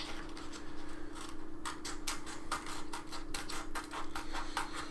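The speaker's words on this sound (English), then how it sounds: "I'm going to cut these circles out." Scissors snip through paper while cutting out round circle shapes for a paper penguin craft, giving a run of quick, close, crisp clicking cuts that speed up over a steady background hum.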